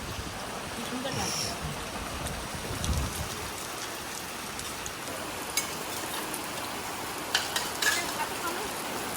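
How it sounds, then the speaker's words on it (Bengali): Heavy rain pours down in a steady, dense hiss close by, with a few brief louder clatters and patters scattered through it. "এত জোরে বৃষ্টি এসে গেছে"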